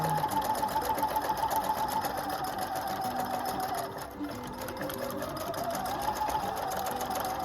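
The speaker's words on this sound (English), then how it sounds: "this is the tack stitch. Alright, so it's supposed to, it goes over it like 12 times" A Husqvarna Viking #1+ sewing machine runs steadily through a tack stitch, its needle chattering in a fast, continuous rhythm close up, with a brief dip in pace midway before it resumes.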